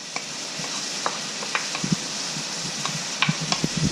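Ground beef and onion sizzle steadily in a hot pan while a utensil stirs, scraping and clicking at irregular intervals over the constant frying hiss, close and fairly quiet.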